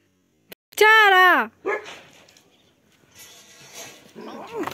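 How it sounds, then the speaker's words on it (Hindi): A small dog on a village lane gives a loud whining yelp up close, followed by scattered rustling and short bursts of voices. "ये देखो ये छोटा सा कुत्ता, ये ऊपर को भाग रहा है।"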